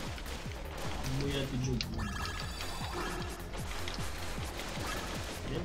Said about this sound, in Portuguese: Eu não sei nem mais o que é tiro da Ribbon, o que é tiro inimigo